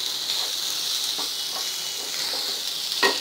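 Grated fresh coconut sautés in a pan, giving a steady hissing sizzle with a few faint stirring taps and one slightly louder scrape near the end, and no voices.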